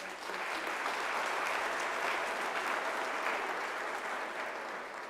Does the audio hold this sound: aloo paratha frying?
no